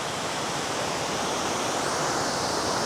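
Ocean waves at Nai Harn Beach in Phuket roll in as a broad, continuous wash of surf, loud and close, steady throughout with no voices.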